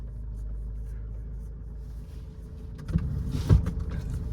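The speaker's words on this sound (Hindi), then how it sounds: "सेकंड गियर पे इस गाड़ी को उठाता हूँ" A Mahindra XUV500 pulls away in second gear with a low, steady engine rumble, followed by a couple of louder thumps near the end.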